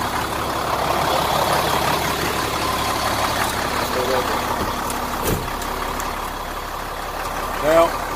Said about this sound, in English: Now I'll turn the vehicle on.